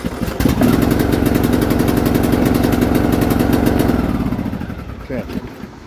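The engine of a Husqvarna YTH18542 lawn tractor, choke on, cranks and catches into a loud, chugging small-engine run that lasts about four seconds. It then fades and sputters near the end.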